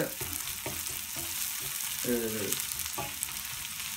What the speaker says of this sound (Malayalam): നന്നായിട്ട് വഴറ്റിയെടുക്കണം സവാള